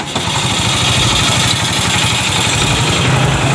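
A Yamaha STX125 motorcycle engine runs loud and close with a steady, rapid low-pitched putter, alone throughout.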